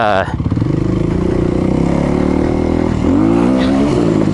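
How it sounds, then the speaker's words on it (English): A motorcycle engine revs hard with a slipping clutch during a failed wheelie attempt, loud and close, holding a steady droning rev before the pitch climbs in a fresh surge. "Sometimes this clutch still slips and I cannot wheelie."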